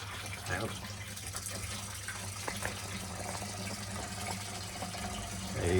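Liquid runs steadily through a Kegland Jigger syphon, a continuous trickling, gushing flow close by with a low hum beneath it.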